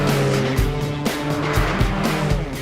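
A Porsche 718 driven hard on a racetrack in Scotland, a loud, close engine note that rises and drops with each gear change and shift, with brief harsh bursts between revs.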